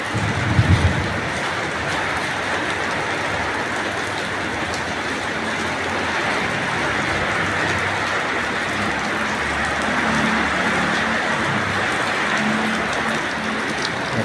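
Heavy rain pours down steadily at the end of a hot workday, a dense continuous roar of water hitting surfaces that stays loud and even throughout with no voices.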